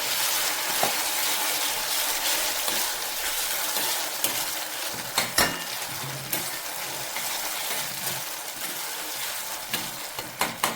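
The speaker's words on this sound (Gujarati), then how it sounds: "એમાં આપણે હવે આ જે ડુંગળી અને ટામેટાં શેકીને એને નાખીશું તેલમાં." Roasted onion and tomato sizzle and fry in hot oil tempered with cumin for Gujarati baingan bharta, a steady close crackle with occasional stirring clinks and no talk.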